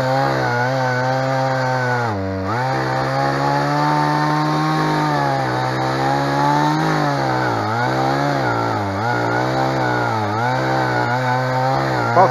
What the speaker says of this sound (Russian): Посмотри, чтоб не зажало пилу.